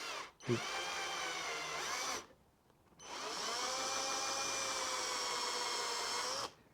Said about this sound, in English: we can drill the holes for the bolts and countersink them